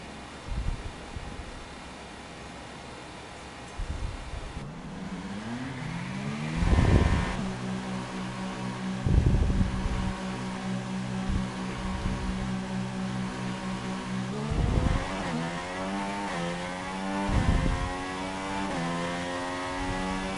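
A Formula 1 car engine in a racing video game, leaving the pit lane on a new engine and winding up through repeated rising revs and gear changes, with sharp bursts as it accelerates to top speed.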